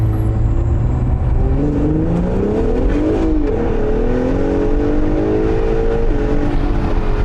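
A tuned 2.0-litre four-cylinder Honda VTEC accelerates hard, its engine note climbing steadily through the revs, loud and close with constant wind and road roar.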